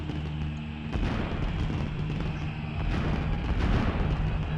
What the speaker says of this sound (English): Boy, some of those fireworks are going off in the crowd.